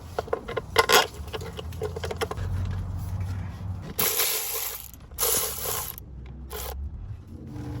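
Torque wrench tightening timing cover bolts on a Toyota 2UZ-FE 4.7-liter V8, rapid ratcheting clicks in bursts with metallic handling noises and pauses between, close and fairly loud.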